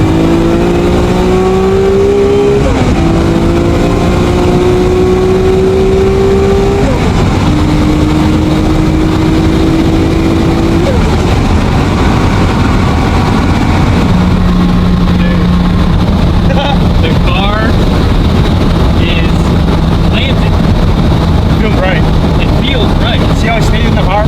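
A Top Secret Toyota Supra engine pulls hard through the gears, its loud rising revs climbing in several sweeps with brief drops at the shifts, heard from inside the car under people talking.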